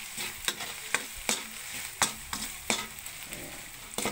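Shredded cabbage and ground beef sauté in a pan, a steady sizzle broken by sharp, regular scrapes and clacks of a spatula stirring every half second or so, close and without speech.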